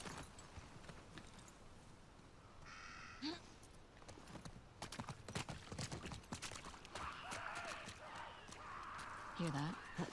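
Steady hoofbeats of a horse trotting in The Last of Us Part II, with a brief whinny and ambient noise, under a person talking.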